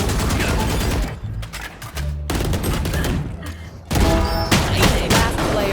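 Rapid gunfire from a tactical shooter video game, dense bursts of shots sounding loud and continuous across the whole stretch, with a brief dip in intensity before another heavy volley.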